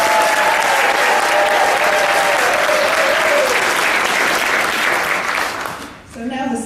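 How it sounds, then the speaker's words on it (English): A large audience at a steampunk fashion show applauds loudly and continuously, a dense roar of clapping with faint cheers that fades out near the end as a voice begins. "Give yourselves a huge round of applause."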